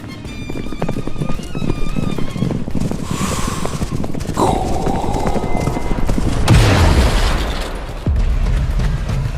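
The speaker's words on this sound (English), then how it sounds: "He's outrunning the horses!" Horses gallop in a race with rapid, continuous hoofbeats under heavy booms and whooshing effects. The sound is loud and busy throughout, with no talk.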